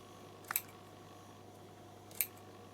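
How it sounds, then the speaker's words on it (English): Two quick, crisp snips from small thread snips cutting loose threads at the back of a sewing project, spaced about a second and a half apart, close and clear against a quiet background hum. "now I can get my little snips, and you cut all your threads at the back"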